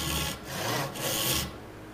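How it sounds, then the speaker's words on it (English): Hand rip saw cutting along a marked line in wood at a traditional woodworking bench, three rasping broadband push strokes close up with brief pauses between them. "let's give the sawing method another try. This is my rip saw."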